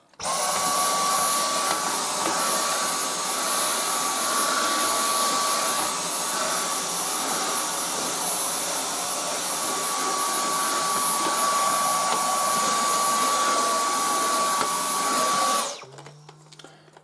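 A Dyson V10 Total Clean cordless vacuum cleaner runs steadily at full power, a loud, continuous motor whine with a high pitched tone, then cuts off abruptly near the end, leaving a brief low hum.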